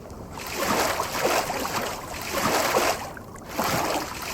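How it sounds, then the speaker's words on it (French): Water waves in the A.I.L.A video game, a steady close wash of lapping and swelling water in slow surges that rise and fall every second or so, with no talking over it. "Ah, les détails de l'eau sont incroyables. Voilà, ça fait même les vagues et tout."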